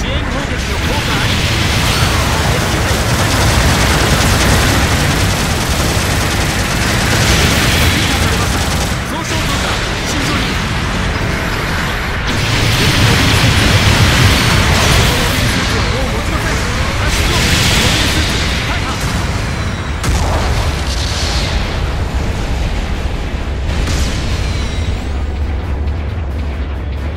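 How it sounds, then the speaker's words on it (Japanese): Support artillery bombardment in the mecha game Gundam Battle Operation 2, heard as a dense, loud, continuous barrage of booms and blasts rumbling through the whole stretch, with voices talking over the explosions. "後方部隊からの支援砲撃が来ます。"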